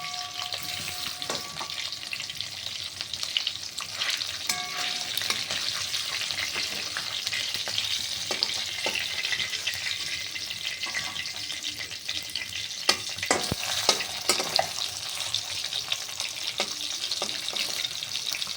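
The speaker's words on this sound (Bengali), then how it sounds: "এগুলো ভাজা হয়ে গেছে, এবার তুলে নিচ্ছি একটা একটা করে" Fish frying in oil in a pan gives a steady hiss and sizzle, with a few sharp pops and the clatter of utensils over the top.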